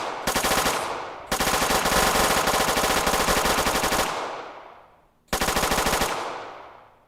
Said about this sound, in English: It's just that the guns are still firing.